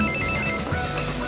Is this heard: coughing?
no